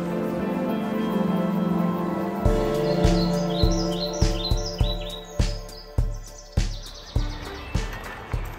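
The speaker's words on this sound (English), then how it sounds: "I love hearing the birds too." Birds chirp and trill in short bursts over a quiet background in Montecatini Terme, Tuscany, joined by a series of sharp knocking taps that ring and decay.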